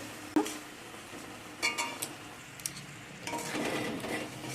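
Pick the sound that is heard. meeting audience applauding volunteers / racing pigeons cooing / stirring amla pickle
stirring amla pickle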